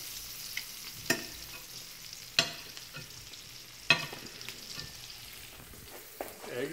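Eggs fry in margarine in a pan with a constant soft sizzle, broken by several sharp clinks and scrapes of a utensil against the pan at intervals.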